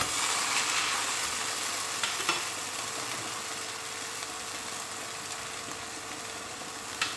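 Steady, close-up sizzling of pancake batter frying in a hot cast iron pan, a continuous crackling hiss with no talking.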